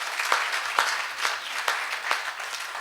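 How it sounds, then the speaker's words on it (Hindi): Listeners at a mushaira poetry gathering in Deoria break into applause, a short burst of clapping in a hall with a few sharp, louder claps standing out over a low hum. "एक बार जोरदार तालियां बजाइए।"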